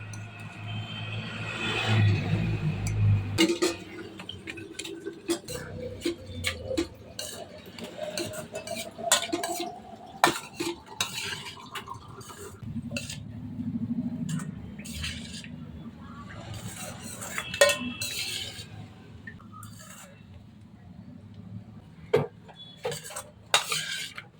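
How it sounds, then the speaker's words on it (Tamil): Cooked rice mixed into potatoes in a pan, heard as a long run of scattered metallic clinks and scrapes of a spoon against the pan, close and intermittent, with a brief louder clatter near the start. "இப்போ இதை வந்து நம்ம உருளைக்கிழங்குல போட்டு மிக்ஸ் பண்ணிக்கலாம்."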